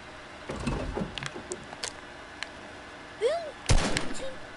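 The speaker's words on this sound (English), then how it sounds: "Wait, I see TNT cannons. Look, Boom!" Two sharp booming blasts from TNT cannons in a video game, with clicky effects and a short rising whoosh before the second, louder explosion.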